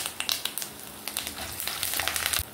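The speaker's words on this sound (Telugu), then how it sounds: "కరివేపాకు కూడా బాగా క్రిస్పీగా వేగిపోయింది" Curry leaves crackle and pop as they fry crisp in tempering oil with chana dal, urad dal and mustard seeds. Rapid, close spattering bursts ride over a soft steady sizzle.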